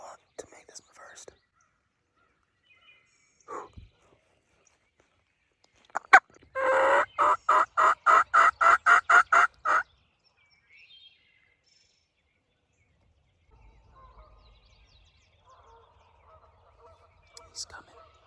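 A wild turkey gobbles on public land during a bow hunt, a burst of rapid rattling pulses lasting about four seconds midway through, fairly close and clear, amid quiet surroundings with a few soft whispers and faint sounds before and after.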